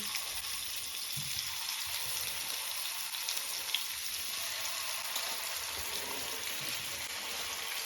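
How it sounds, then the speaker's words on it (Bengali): Grass carp pieces frying one by one in hot mustard oil with five-spice tempering, a steady close sizzle and crackle running evenly throughout with no talking. "এবার আমি মাছগুলোকে এইভাবে একটা একটা করে দিয়ে ভালো করে ভেজে নেব"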